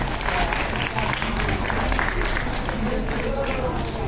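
Applause from an audience at a political rally gathering, a steady dense wash of clapping heard up close and fairly loud, with crowd noise mixed in throughout.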